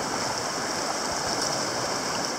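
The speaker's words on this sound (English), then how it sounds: "overlooking the creek" Creek water flows steadily over rocks in a wooded spot, a continuous broadband rushing that stays even and close throughout, with no voices.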